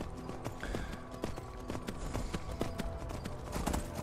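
Horse hooves clip-clopping at a steady riding gait in the video game Skyrim VR, a continuous rhythmic thudding beneath soft game ambience.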